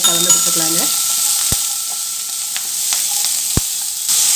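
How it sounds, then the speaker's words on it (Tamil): Shallots sautéing in a pan for mutton paya, giving a steady close sizzle with a few sharp clicks of a spoon against the metal. "இப்போ இதை நல்லா வதக்கி கொடுத்துக்கலாம். சின்ன வெங்காயம் வதங்கி நல்லா கலர் சேஞ்சாக வரட்டும்."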